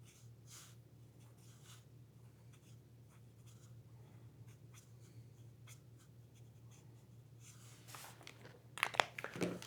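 A marker scratches across paper during an art project, with steady soft strokes over a low background hum that grow into louder, quicker scribbles near the end.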